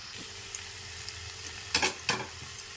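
Potatoes and fried bori (lentil dumplings) simmer in water in a covered pan, giving a soft, steady bubbling hiss broken by a couple of brief clattering knocks near the end.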